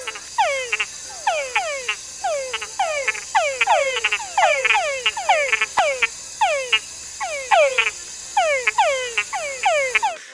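Many male frogs call together at night in a dense chorus, rapid repeated downward-sweeping chirps overlapping in quick pulses, loud and close against a steady insect-like drone.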